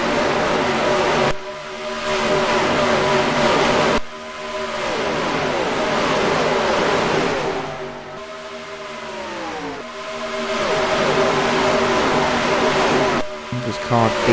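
NASCAR Racing 2003 race car engines from a Disney Cars Piston Cup season, whining and rising through gear changes, several high-revving passes sweeping by over about fourteen seconds, loud and sustained.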